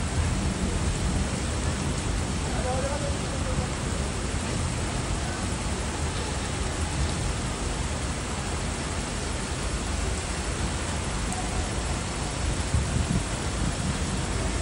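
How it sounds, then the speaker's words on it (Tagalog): Steady, heavy rain falling under dark black clouds over buildings, with a dense constant hiss throughout, with no pauses and no talking. "gawa nung maitim na ulap kasabay ng ulan"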